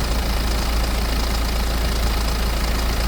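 A BMW E90 320d diesel engine idles before its timing chain replacement, a steady, continuous rumble with an even low drone and rough mechanical texture, heard alone.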